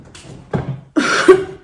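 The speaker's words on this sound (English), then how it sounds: "Excuse my cough." A couple of short, harsh coughs, close and fairly loud, with a brief pause between them.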